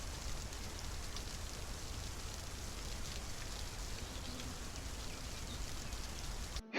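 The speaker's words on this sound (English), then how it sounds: "It's raining and there are birds waking up." Steady rain patters on the ground in the FSX flight simulator at Dunnville Airport, a continuous even hiss with no clear birdsong standing out, cutting off abruptly at the end.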